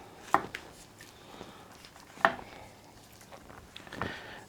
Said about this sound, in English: Now we're gonna flip it over and we'll slice between the bones